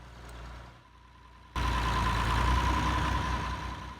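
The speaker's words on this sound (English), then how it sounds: "Now he's shutting off the tractor's PTO and he's going to back the mixer wagon up onto the concrete pad" An Oliver tractor engine runs on a farm beside a feed mixer wagon, quiet at first, then jumping to a loud, steady idling rumble with a humming tone that carries on to the end.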